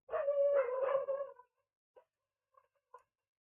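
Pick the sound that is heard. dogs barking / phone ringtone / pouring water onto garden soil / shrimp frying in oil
dogs barking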